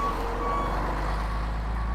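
A truck reversing on a street in Fremantle sounds a steady, repeating high beep over a constant low engine rumble, loud and near, with no talk.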